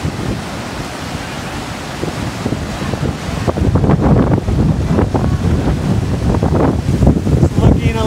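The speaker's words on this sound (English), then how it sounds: "It's a first class four rapid on the river." Class four whitewater rapid on the river in Cataract Canyon, Utah: a loud, steady rushing roar of churning water that swells halfway through, buffeted by wind noise on the microphone.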